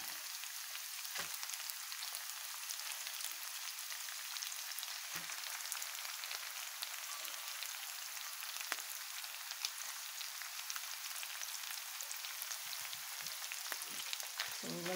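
Chinese cabbage and carrots frying in a pan for fried noodles give a steady, soft, hissing sizzle with a few faint pops and clinks throughout.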